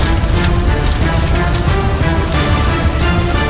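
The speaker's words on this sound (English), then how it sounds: "The street was wet from rain, and the flames sizzled out." Steady rain falls on a wet city street and flames hiss as they sizzle out, making a dense, continuous wash of patter and hiss with no speech over it.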